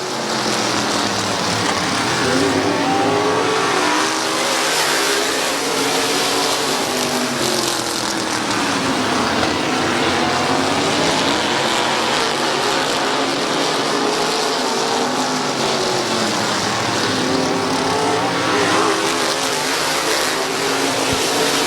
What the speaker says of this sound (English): Copen to the outside of Ripley, still hanging on to the outside lane